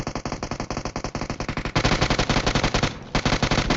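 Rapid automatic gunfire in the video game PUBG, a continuous loud burst of evenly spaced shots that briefly stutters near the end before resuming, close and dominant.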